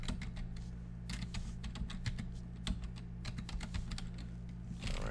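Someone types on a computer keyboard, a close, brisk run of uneven key clicks over a low steady hum, with no talking.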